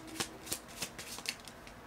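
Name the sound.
shuffling a deck of oracle cards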